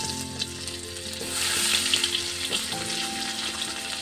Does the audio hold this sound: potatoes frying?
yes